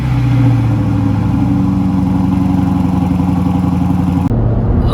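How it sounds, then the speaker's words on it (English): A Jaguar XK 5.0 V8 fitted with a new exhaust idles loudly after a cold start, a deep steady burble throughout that drops off abruptly near the end, with no talking. "we're going to let you guys hear a cold start with our brand new exhaust."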